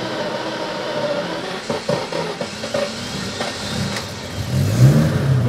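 A car engine revs up and settles in short surges, fairly close and steady, with a low mechanical drone underneath and no talking.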